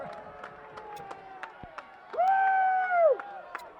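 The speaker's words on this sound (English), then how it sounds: "Listen to this crowd celebrate the card." A youth boys' soccer crowd at a match against Peters Township cheers a card, rising into a loud swell of voices and whoops over ongoing crowd noise, with a whistle-like tone and scattered claps around it.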